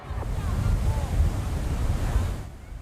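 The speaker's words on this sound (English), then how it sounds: "Tropical storm Isaias whipped up big waves as its 110-kilometer-an-hour winds edged Florida's Atlantic coast." Big surf whipped up by Tropical Storm Isaias pounds Florida's Atlantic coast under 110 km/h winds: a steady, close roar of breaking waves mixed with gusty wind buffeting the microphone, easing off at the very end.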